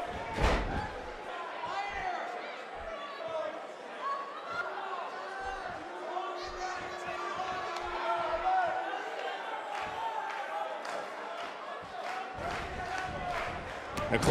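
An arena crowd in Hershey roars and chatters through a WWE 2K18 match between Tommaso Ciampa and Lio Rush, a continuous cheering wash punctuated by ring slams, with commentators talking over it.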